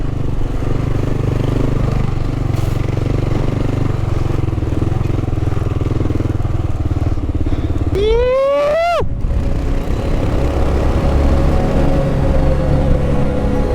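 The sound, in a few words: Kawasaki KLR650 motorcycle engine, throttle pulled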